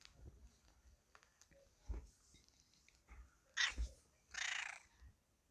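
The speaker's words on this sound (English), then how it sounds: "Now my cat is being really loud." A pet cat meows loudly indoors, a few scattered short cries building to two louder yowls near the end, separated by quiet gaps and faint background noise.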